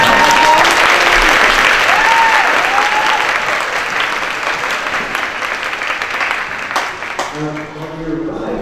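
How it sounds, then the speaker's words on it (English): A school crowd at a high school spaghetti dinner claps loudly and steadily for the drum major, a dense wash of applause that slowly thins, with faint voices and brief tonal sounds mixed in. "Let's give her a big round of applause."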